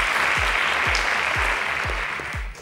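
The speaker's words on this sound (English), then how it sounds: "Please give yourselves a round of applause." Contestants on a competition show applauding themselves, a loud, steady burst of clapping over a repeating low pulsing beat, dropping off sharply near the end.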